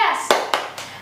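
Young children at a Sunday school session clap in a rhythmic chant, three or four sharp clustered claps spaced evenly after an adult's voice starts the clip.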